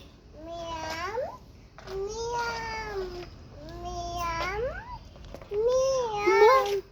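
A cat meows repeatedly in drawn-out, rising cries, four separate calls close by, with faint background noise between them.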